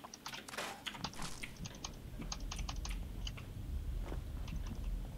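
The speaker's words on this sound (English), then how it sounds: "When it's not working, just mash the keyboard harder." A computer keyboard is mashed repeatedly during Fallout 76 play, producing quick, irregular bursts of close clicking keystrokes over a quiet room background, with no talk.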